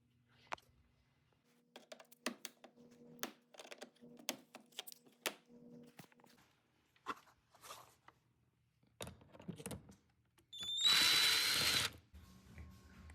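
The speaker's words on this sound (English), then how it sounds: "So you have to drill them like this and it will come out." A power drill drilling out rivets on an Acura MDX door whines loudly for about a second near the end, after scattered quiet tapping and clicking noises.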